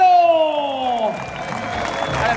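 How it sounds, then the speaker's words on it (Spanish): Applause and crowd noise from spectators at a bullring during a rodeo-style bull event, heard at first beneath a loud, sustained announcer voice and then continuing as a broad, steady clatter after the voice fades. "¡Venga, fuerte el aplauso, Casco Guerrero!"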